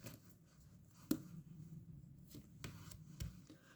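Tarot cards being shuffled by hand, quiet intermittent riffles and soft taps with a few sharper snaps, close and faint, no voices.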